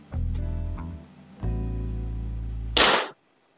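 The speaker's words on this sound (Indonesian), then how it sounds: "Kita coba di tembakan kedua apakah sama" A shot from a brass Luger air gun (air rifle) lands near the end as one sharp, loud crack, after two stretches of steady low mechanical humming.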